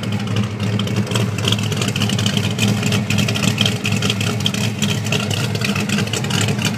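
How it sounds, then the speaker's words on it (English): Exhaust of a 1963 Acadian Beaumont Chevrolet Nova burbles at a steady idle, a close, constant throaty rumble with light uneven pulses and no voices over it. "Let you listen to the exhaust."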